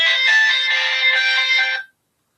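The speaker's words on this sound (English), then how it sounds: "we've got a phone call coming in" A phone ringtone plays a bright electronic melody, loud and close, for about two seconds before cutting off into silence.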